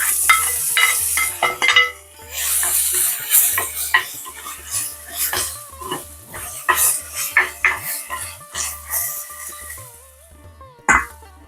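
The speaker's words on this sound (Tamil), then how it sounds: "ஓகே, தக்காளி சேர்க்குறோம்." Chopped tomatoes go into a clay pot of frying venison masala, bringing a run of scraping stirs, spoon clinks against the pot and a soft sizzle that comes and goes in irregular bursts.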